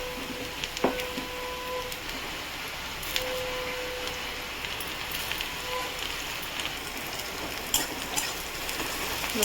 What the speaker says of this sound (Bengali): রসুনটা একটু ভাজা ভাজা করে ফেলবো।